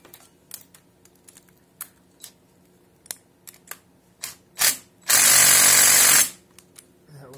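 On a Yamaha Banshee, a power tool spins a bolt down to torque spec in one loud, continuous whir lasting about a second, preceded by scattered light clicks and taps of tools being handled.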